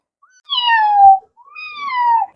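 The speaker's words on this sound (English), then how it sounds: "cat" A cat gives two clear, close meows in quick succession, each a rising then falling tone, with silence around them.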